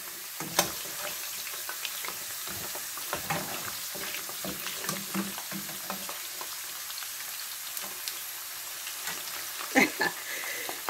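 Chips fry in a pan with a steady, close sizzle, broken by light stirring clicks and occasional sharper pops, while a person talks quietly over the cooking.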